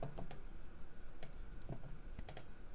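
Computer keyboard keys are pressed in a quiet room, giving a handful of sharp, isolated clicks spaced irregularly against a faint background hum.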